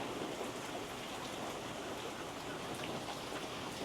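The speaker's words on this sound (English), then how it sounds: "So I wanted to come out and let you hear the rain." Rain falls outside in a soft, even patter that stays continuous and fairly faint, a steady wash of drops landing on surfaces with no voices heard.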